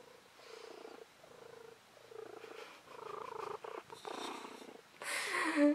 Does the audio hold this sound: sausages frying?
no